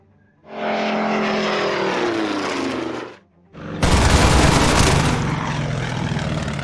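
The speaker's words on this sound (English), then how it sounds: "Fighter strafing armor." A fighter plane strafes armor in the WWII strategy game Order of Battle, with a loud sustained propeller-engine drone for about three seconds. After a brief dip, a harsher, denser burst of gunfire and engine roar follows.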